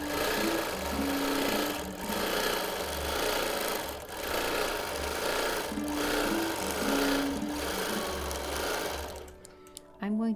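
Long-arm quilting machine stitching a large pieced quilt, a steady fast mechanical whir in repeating runs with brief pauses, close and moderately loud, with someone speaking over it.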